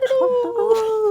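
A dog gives one brief, loud, tonal howl with whimpering yips, close and clear, lasting about a second.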